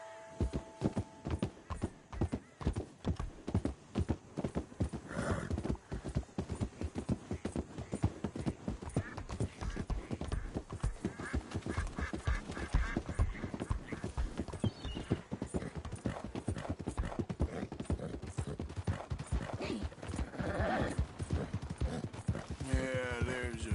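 Horse hooves clip-clopping steadily in Red Dead Redemption 2, a fast, even gallop rhythm throughout with an occasional whinny, close and continuous.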